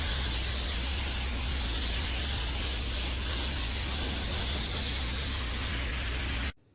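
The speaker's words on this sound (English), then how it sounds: "In this clip here, I'm applying the epoxy primer." Epoxy primer sprayed onto a welded metal part makes a loud, steady hiss that runs unbroken and then cuts off abruptly at the end.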